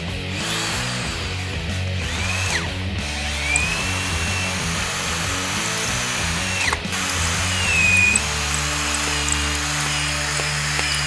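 A power drill whines steadily and loudly for the whole stretch, its motor pitch wavering as the bit grinds into a metal engine block, with a brief dip midway.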